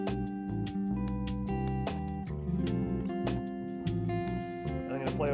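A backing track in B superlocrian plays steadily and fairly loud, with sustained chords, bass and regular percussive hits throughout. A brief voice appears near the end.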